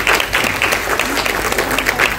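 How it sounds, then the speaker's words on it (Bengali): Audience applause for selected performing artists at a Rabindranath Tagore 165th birth anniversary programme: dense, sustained clapping from a large crowd, steady and loud throughout. "আপনারা খুব জোরে একবার যদি হাততালি দেন তাদের উদ্দেশ্যে"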